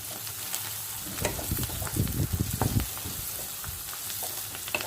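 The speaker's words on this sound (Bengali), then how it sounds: "একটু লাল লঙ্কা দিয়ে দিলাম। লাল লঙ্কাটা আগে থাকতে ভাজলে পরে ঝালটা চলে যাবে।" Red chillies sizzle in hot oil for a Bihari-style matar ghugni, a steady crackling fry with bursts of louder spitting and some stirring in the middle, close and without talk.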